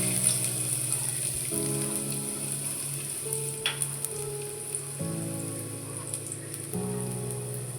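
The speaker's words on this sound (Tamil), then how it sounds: "எண்ணெய் சூடானதும் பூண்டு சேர்த்துக்கலாம்." Garlic sizzling in hot oil in a pan, a steady crackling fry that runs throughout with a faint clink partway through, no talk.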